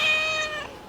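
A voice imitating a cat's meow: a single drawn-out, close and fairly loud meow that fades out, with nothing else around it.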